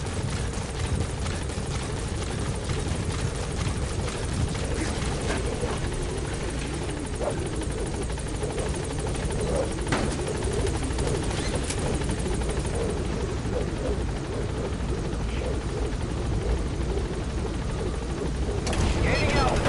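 Helicopter in the video game Metal Gear Solid V: The Phantom Pain, a loud continuous rotor thump and engine roar that holds steady throughout, with radio-style voices talking over it.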